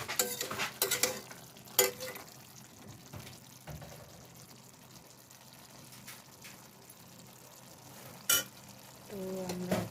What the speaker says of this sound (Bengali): ডিম দিয়ে শুটকি দিয়ে রান্না করছি বন্ধুরা।